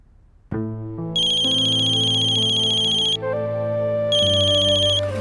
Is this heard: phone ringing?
yes